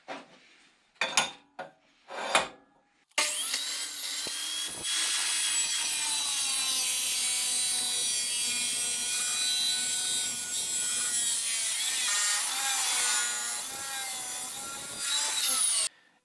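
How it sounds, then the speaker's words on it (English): A diamond blade slices through stainless steel manifold tubing, a loud sustained grinding whine lasting several seconds after a few brief knocks and scrapes. "It's a bit brutal to watch that diamond blade rip through the stainless steel."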